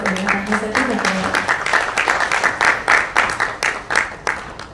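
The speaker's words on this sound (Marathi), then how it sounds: "टाळ्या." An audience at the trailer launch of the Marathi comedy drama Ambat Shoukin claps for a guest called to the stage, and the clapping swells in loud, rhythmic bursts before it settles.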